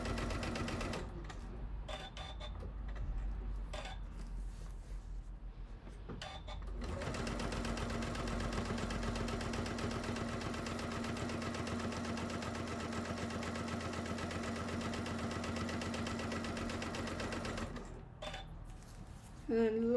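A sewing machine runs in one long steady burst as it stitches around a bag panel, with shorter stop-start stitching and pauses before and after, close and fairly loud.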